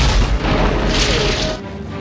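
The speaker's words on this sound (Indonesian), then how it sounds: "bom itu jatuh ke tumpukan bom milik Burt kemudian meledakkan semuanya" A stockpile of bombs detonating all at once in a giant-worm monster film scene: a loud, deep, rolling boom that sustains and rumbles for over a second before cutting off abruptly.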